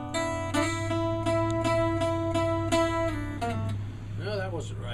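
A guitar plays the third measure of a song as a run of plucked triplet notes over a low steady hum, close and moderately quiet, with a speaking voice toward the end.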